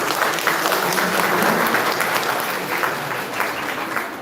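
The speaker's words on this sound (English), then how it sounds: "Can we once again give you a big round of applause for them?" A church congregation claps for singers after a song, steady dense applause filling the room at close range, holding strong throughout before tapering slightly at the end.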